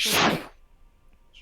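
A single sneeze, a loud burst right at the start that cuts off quickly and leaves near silence, with a brief faint voice at the very end.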